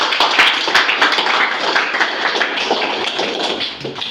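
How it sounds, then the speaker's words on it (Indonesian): A group claps together at a nurse station, a dense burst of applause with quick overlapping claps that holds steady for several seconds, close and loud. "Beri tepuk tangan."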